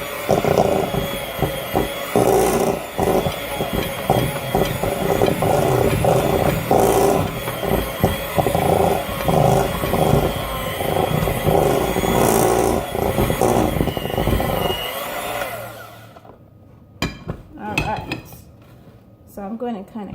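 An electric mixer whirs loudly and steadily through chocolate chip cookie dough with a rattling, clattering edge for about fifteen seconds, then cuts off, leaving a few scattered knocks and handling noises.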